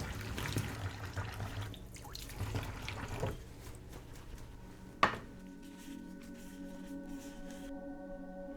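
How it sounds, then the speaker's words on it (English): Water running and dripping as casting moulds for rubber sim racing wheel grips are rinsed at a sink, a steady trickle with a sharp knock midway, then quieter dripping. "Wash the moulds and allow them to dry before continuing."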